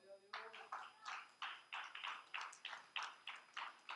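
A church congregation claps in steady rhythm, sharp even beats roughly every third of a second, just after a voice speaks briefly at the start; moderately quiet with a clean background between claps.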